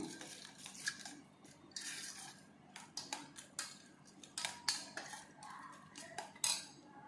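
Ugadi pachadi ingredients, including fried chana dal, being mixed in a bowl with a spoon: soft scrapes and light clinks of metal against the bowl come in irregular bursts, close and fairly quiet, with no talking.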